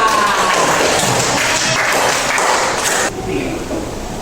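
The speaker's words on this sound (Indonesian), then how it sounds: "Tepuk tangan untuk Bapak." Students in a classroom applaud their teacher with a burst of close, busy clapping that cuts off abruptly near the end.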